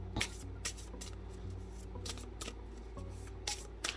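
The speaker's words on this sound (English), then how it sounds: "my preferred method is riffle shuffling" Oracle cards are riffle shuffled several times in quick succession, each a brisk fluttering burst, close and fairly quiet over a low background hum.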